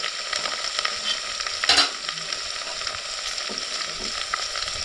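Masala spice powder hits hot tempering oil over a wood-fired village stove while cooking chicken, producing a strong continuous sizzle up close with a brief louder flare partway through and occasional stirring scrapes.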